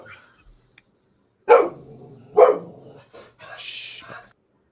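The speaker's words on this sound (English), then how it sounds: "Sorry about the barking, guys." A dog gives two sharp barks about a second apart, with a softer yelp after, close by and over quiet background murmuring.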